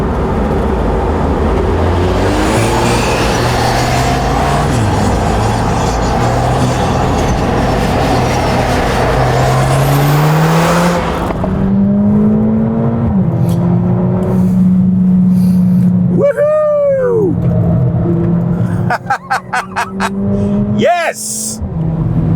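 A Mercedes-AMG A45 S hot hatch is driven hard on a racetrack, its engine droning and rising through gears under a voice, then loud pops and crackles on the overrun near the end.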